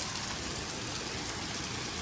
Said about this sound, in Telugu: ఇప్పుడు ఫుల్గా పడుతుంది వాన